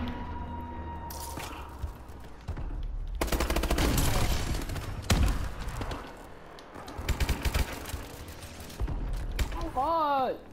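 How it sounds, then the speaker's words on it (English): Missile strikes and gunfire from Call of Duty Advanced Warfare multiplayer come as loud bursts of explosions and rapid shots. A game announcer voice speaks, and beeping interface tones are heard near the end. "Friendly missile strikes inbound."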